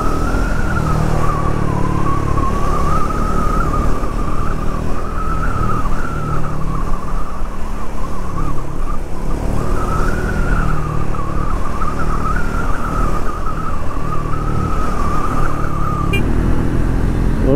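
A Triumph Speed 400 motorcycle rides through traffic, its engine a continuous loud drone that rises and falls gently with throttle, mixed with steady road and wind rush and no talk.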